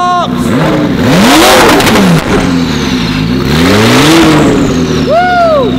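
Straight-pipe exhaust on a top-mount conversion car blares as the engine revs hard in rising and falling sweeps, very loud and close, with a few crackles near the end.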